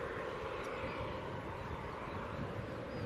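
Jet aircraft at Manchester Airport, a Ryanair Boeing 737 among the traffic, rumbling as a steady broadband roar heard from a distance outdoors, with no distinct peaks, just continuous engine noise and wind.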